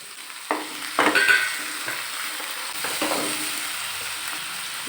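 Onion and tomato sizzle in a pan for samba wheat rava biryani while a spoon stirs them, with a steady crackling fry and a few close scraping stir strokes.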